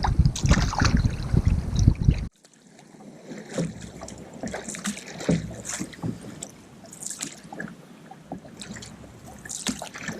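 Steady headwind buffets a canoe on a lake, a continuous rushing hiss with faint water trickles and paddle splashes, after a brief loud burst at the start.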